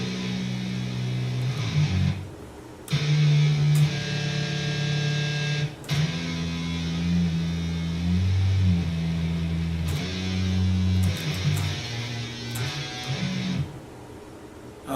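Distorted electric guitar playing the lower part of a theme, a brooding line in B harmonic minor: sustained low, gritty notes moving in slow repeating phrases, loud and steady with no talking.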